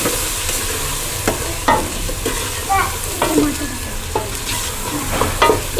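Garlic paste and kadhi spices frying in a pan, with a constant sizzle and repeated spoon scrapes and taps at irregular intervals; close and clear, without speech.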